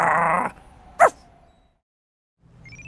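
A cartoon dog gives one short, sharp bark or yip, loud and close, standing alone after a brief burst of speech, with quiet pauses and talk picking up again afterward.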